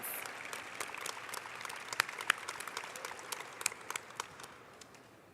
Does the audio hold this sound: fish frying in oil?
no